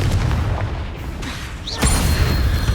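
A Confringo spell explodes in Hogwarts Legacy, a dull boom with a short whoosh and burst over continuous game ambience and low rumble, fairly loud and alone without talk.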